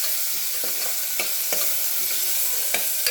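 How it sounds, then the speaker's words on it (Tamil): Tomato and onion sauté in a pan with a steady bright sizzle and frequent scraping taps of a spatula stirring, close and continuous with no talking. "தக்காளி மசியாக வதங்கணும்"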